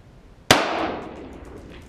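A single sharp metallic clang as a Kel Tec RDB rifle bullet strikes a steel plate 500 yards away, a bright ringing impact that decays over about a second, alone.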